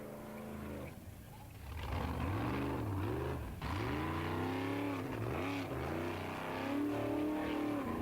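A rally car at the 1996 Hella time-trial event works through the course, engine revving hard with rising and falling pitch sweeps as it accelerates, brakes and shifts, loud and close with no talk.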